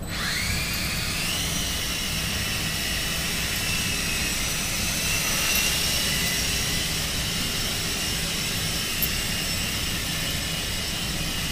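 An E-flite Blade MCXT micro RC helicopter flies nearby with a steady, high-pitched whining rotor and motor drone, its pitch rising slightly early on and then holding level and continuous for the whole stretch.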